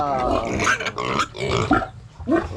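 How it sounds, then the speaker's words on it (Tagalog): A farm pig let out of its pen gives a series of loud, close, throaty grunts and squeals in irregular bursts with short pauses between them. "Ayan na po yung ating baboy."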